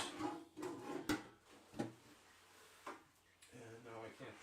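Small drawers of a little hobby toolbox slide open and shut a few times in a painting workspace, each giving a short wooden knock or clack, close by and spaced apart, with quiet talk around them.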